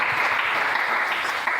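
A church congregation applauding, a steady, dense wash of clapping from many hands, fairly close and continuous for the brief moment.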